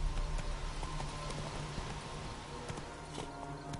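Faint, steady clip-clop of the horse Roach galloping in The Witcher, rhythmic hoofbeats under a low ambient background.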